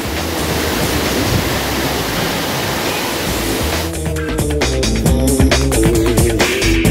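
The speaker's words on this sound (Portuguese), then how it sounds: "Cachoeira Olhos d'Água." The Olhos d'Água waterfall roars as a loud, steady broadband rush, with clattering knocks and handling noise layered over it near the end.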